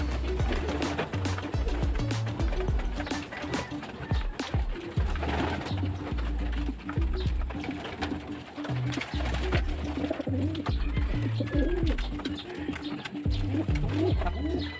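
Racing pigeons cooing softly after feeding in a loft, low repeated coos mixed with wing flutters and rustling, with a person speaking intermittently nearby.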